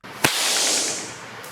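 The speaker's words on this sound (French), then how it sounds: "Vous avez entendu le claquement du fouet?" A single sharp whip crack snaps as the tip breaks the sound barrier, loud and close, followed by a hissing decay that fades over about a second.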